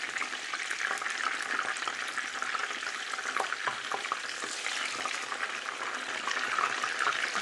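Chicken kebabs sizzle in hot oil while being turned in the pan, a steady close crackle broken by a few soft clicks and shifts, with no voices.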